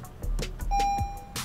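A Toyota Crown sounds an electronic warning chime with the door open while starting is blocked, a clear tone over a few soft knocks and rustles nearby.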